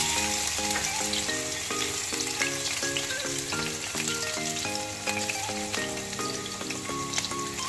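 Crushed ginger and garlic fry in hot oil in a wok for a chilli chicken dish, giving a loud, continuous sizzle with crackling pops. A low tonal hum runs underneath, and no one speaks.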